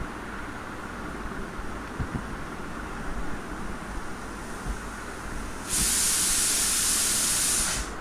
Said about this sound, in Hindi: कुकर सीटी दे रहा है, आवाज़ गड़बड़ हो रही है।